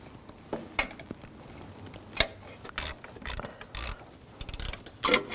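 A ratchet clicks in short, quick bursts while a thermostat housing bolt on a 2007-2013 BMW 328i 3.0L engine is tightened, close and fairly quiet, with pauses between the runs of clicks.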